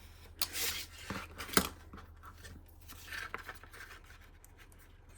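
Scissors cut a corner off a sheet of paper with a few quiet, crisp snips and rustles close by, spaced irregularly, the sharpest snip standing out in the middle of a near-silent background.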